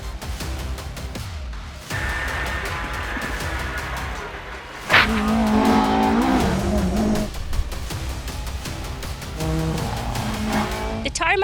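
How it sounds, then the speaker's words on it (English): A rally car races flat out over the twisty, narrow, bumpy tarmac roads of Mull during the Mull Rally, its engine revving hard and loud and close, with tyre squeal and bursts of acceleration between gear changes. A voice talks over parts of it. "The joy of driving your car as fast as you can over these roads,"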